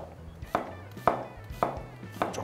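Knife chopping onion on a cutting board for beef noodle soup, four sharp, evenly spaced chops close by, each a crisp thud against the board.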